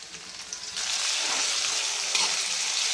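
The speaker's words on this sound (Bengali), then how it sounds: "এখন আমি শুটকি চিংড়িগুলো ভেজে নিব পেঁয়াজের ভিতরে।" Dried shrimp fry with chopped onion and green chillies in hot oil, a quiet sizzle that suddenly swells into a loud, steady crackling hiss and stays strong.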